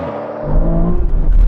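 Aston Martin cars launching off the line in a drag race, a deep engine roar surging in after a brief quiet and holding loud and steady, with a falling pitch break near the end.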